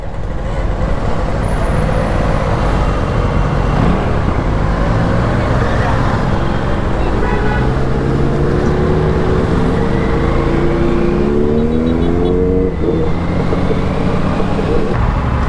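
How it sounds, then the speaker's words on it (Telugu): A 100cc motorbike rides through Vijayawada traffic, a continuous loud roar of engine, road and wind noise, with the engine pitch climbing and falling in a rising drone midway through. "100cc సూపర్ బైక్ ఇది"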